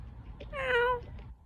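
A single clear cat meow heard outdoors on a walk, a short rising-falling cry over low background rumble, moderately near.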